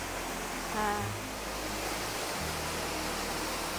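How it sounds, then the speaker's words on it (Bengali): A waterfall at Cherrapunji sends up a constant, even roar of rushing water, heard steadily from a moderate distance without any break. "অনেকগুলো ঝর্ণাও আছে এখানে দেখলাম"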